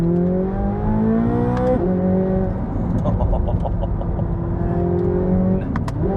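A Chevrolet Corvette C8 Z06 engine roars loudly from the cabin, its pitch climbing and then dropping sharply on dual-clutch downshifts, with blips of revs and a quick snap as each gear engages.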